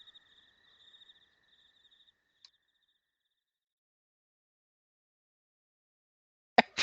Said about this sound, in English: the crickets are over louder than the background